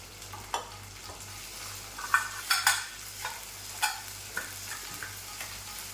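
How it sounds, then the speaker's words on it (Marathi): Ground spice paste frying in oil, a soft, continuous sizzle with repeated scraping and clinking as a spoon stirs the pan, close by, under a low steady hum, with no talk. "छान असं तेलामध्ये परतून घ्यायचं व्यवस्थित"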